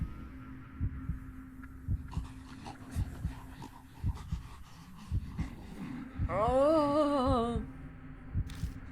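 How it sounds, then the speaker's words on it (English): Creepy breathing creeping up behind the player in the horror game Spirit Hunter: Death Mark, slow rhythmic pulsing thumps under a low hum, with a warbling wavering tone swelling midway and a voice briefly exclaiming. "I hear creepy breathing behind me"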